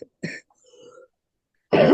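A few short throaty coughs and throat-clearing sounds, close up, separated by silence, ending in a louder, longer rasping cough.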